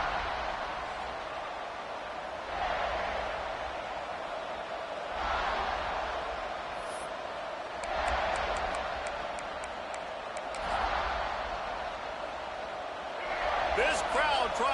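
A roaring football stadium crowd swells in broad waves beneath steady play-by-play commentary, with scattered sharp claps and whistles rising near the end.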